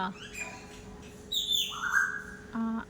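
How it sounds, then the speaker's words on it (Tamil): Sparrows chirp and tweet in short bursts at moderate distance near a house, with faint background noise and some voice-like sounds mixed in. "அந்த மாதிரி சவுண்டு பாருங்க, குருவி கத்திகிட்ருக்கு."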